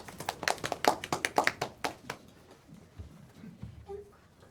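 Small group at a school board meeting claps briefly, a short burst of a few hands lasting about two seconds before fading into quiet room noise and faint murmuring.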